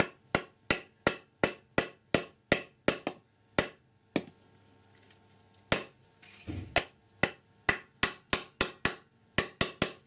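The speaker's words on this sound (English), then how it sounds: "With the lever on a block, take your mallet and a small socket wrench bit, in it through." Mallet taps driving a small socket wrench bit through a 2016 Triumph Speed Triple S brake lever resting on a block, a steady run of sharp, close metallic knocks with a short pause midway, alone with no talk.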